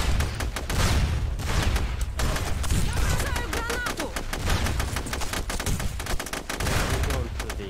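M4 rifle fire in the video game SOCOM 2: dense, rapid bursts of automatic gunfire rattle almost continuously, loud and close, with overlapping shots from several guns.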